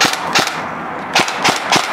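Helios M4 SBR airsoft gun with a mid-cap magazine firing BBs, a few sharp snapping shots in quick bursts, close and loud over a faint hiss, with no talk.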